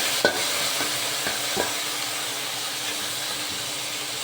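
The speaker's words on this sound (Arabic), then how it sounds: "ودلوقتي هننزل بالبطه يا دوبك هنديها صدمه." Duck seared in a hot pot gives a loud, steady hiss of sizzling fat, with a few short clanks from stirring early on and then a continuous even sizzle.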